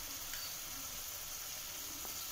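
Mushrooms seasoned with black pepper stir-frying in a pan, giving a quiet, steady sizzle with faint crackles throughout and no talking.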